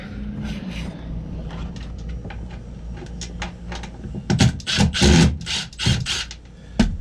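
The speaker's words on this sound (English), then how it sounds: "take off the old tie wrap mount" Scraping and knocking as an old tie wrap mount is pried off a boat, close rasping rubs that build into louder clattering thumps near the end.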